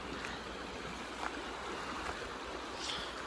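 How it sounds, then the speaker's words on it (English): Mountain creek water flowing near a campsite, a soft steady broadband rush with faint splashes, quiet and continuous with no talking. "I think this is Mill Creek"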